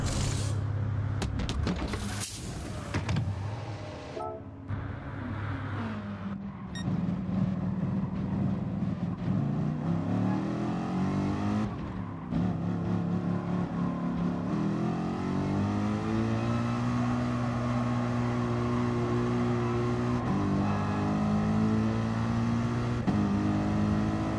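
In a racing video game, a car comes through a pit stop for fuel and tires, with mechanical clatter and the engine rising into a loud, sustained revving drone as it pulls back onto the track.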